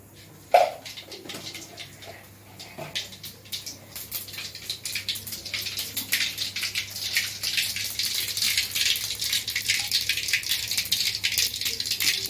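Mustard seeds spluttering in hot oil in a home kitchen, a dense, steady crackle and patter that builds and stays busy throughout, with one sharper pop near the start.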